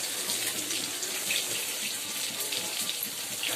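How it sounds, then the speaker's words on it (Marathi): Water is poured into a pan of eggplant frying in oil. It makes a soft, steady splash and trickle at close range, with no voices. "थोडं पाणी टाकणार।"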